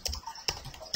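Quick keystrokes tapped on a computer keyboard while entering a URL, a short burst of clicky typing, then a pause and a few more keys, close and fairly quiet.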